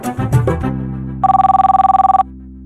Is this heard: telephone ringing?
yes